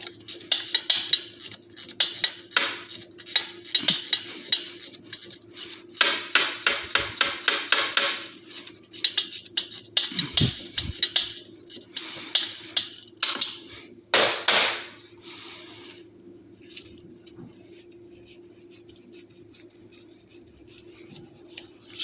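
Metallic ratcheting and scraping as a 3/8 socket backs out the quarter-inch breather bolts on a Harley-Davidson engine, with close, busy clicks and clinks for about fifteen seconds, then quieter handling noises.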